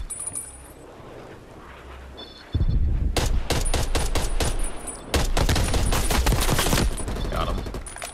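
Bursts of gunfire in Call of Duty: Cold War, sharp rapid automatic volleys in two long loud stretches after a quieter opening, with a voice speaking faintly underneath.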